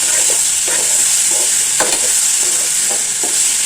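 Onions and other ingredients sautéing with rock salt in a pan for a side dish for chapati, poori, dosa and idli, giving a steady, loud, close sizzle broken by a few scraping stirs.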